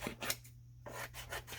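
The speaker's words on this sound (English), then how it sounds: "I'm going to have to use scissors to trim this up" Scissors trim a scrapbook paper page in a few quick snipping and rubbing strokes, close and quiet, with a brief pause between cuts and no talking.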